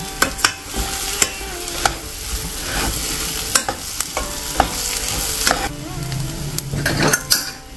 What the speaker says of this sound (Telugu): ఇలాగా మొత్తం కలిపేసుకోవాలండి